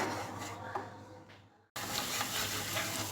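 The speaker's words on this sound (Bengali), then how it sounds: "আমি একদম গ্যাস কমিয়ে এটা কষিয়ে নেব" Masala for a boal fish curry fries on low heat, a soft close sizzle with light stirring scrapes that fades briefly to near silence before resuming at a steady level.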